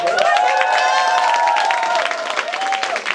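An audience at a climate change and silhak forum claps steadily during an arts session, a continuous patter of hands under a sustained tonal hum and murmuring crowd.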